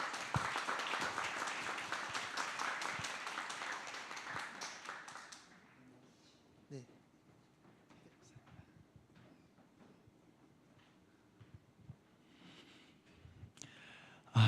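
A church audience applauds to welcome a guest lecturer, the clapping moderately loud for about five seconds before dying away into a quiet room with faint scattered noises.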